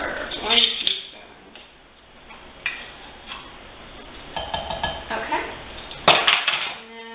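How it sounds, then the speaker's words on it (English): Cupcake batter with baking powder is mixed in a bowl, giving quiet, irregular clinks and taps of a utensil against the bowl. A person speaks briefly. "And then I'm going to mix that up"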